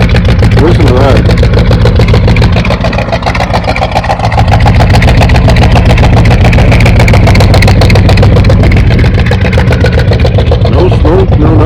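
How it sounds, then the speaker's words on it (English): Engine of a 45-year-old truck running smoothly at a steady idle, a low continuous rumble heard up close and loud throughout, with a person talking over it. "Real smooth running engine."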